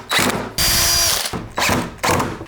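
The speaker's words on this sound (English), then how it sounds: "Okay, I've got it all clamped up and ready to drill." A power drill whirs in four short bursts, loud and close, each spin-up driving a screw into wood with brief pauses between them.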